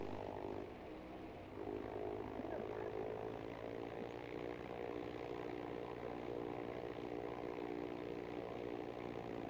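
A propeller aircraft engine in Battlefield V drones steadily with a layered, humming tone, holding at a fairly loud, even level through the whole stretch with no voices.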